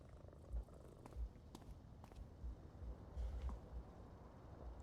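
Indoor house cats purr faintly but steadily, a low rumbling hum up close, with a few soft clicks and shuffles over it and no talking.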